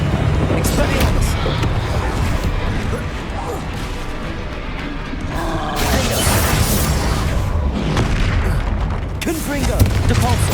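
Spell effects from the Hogwarts Legacy video game, a dense, continuous barrage of loud booming blasts, crashes and magical impacts piling over one another with no break.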